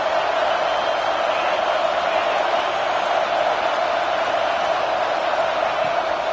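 Stadium crowd at a UGA vs Alabama college football game gives off a steady, even roar that fills the whole stretch without pause or swell.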